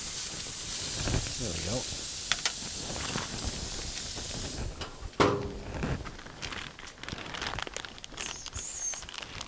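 Marinated fajita meat hisses and sizzles loudly over direct heat on a barbecue grill, with a sharp burst of crackling midway, while a person speaks briefly nearby.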